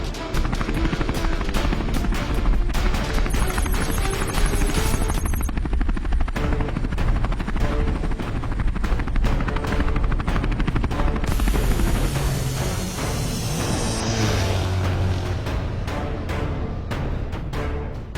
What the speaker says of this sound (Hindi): अब फ्यूचर मैन का हेलीकॉप्टर इस टनल में नहीं आ सकता।